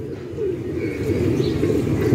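Low, rounded cooing from a young female pigeon on a rooftop pigeon loft, a continuous throaty murmur close by with no talking.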